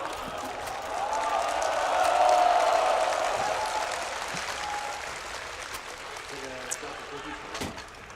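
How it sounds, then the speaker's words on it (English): A crowd at a live CS:GO esports match between NRG and Vitality on Overpass swells into a broad roar of applause and cheering, peaking early and then fading gradually into the arena background. "Crowd getting into it."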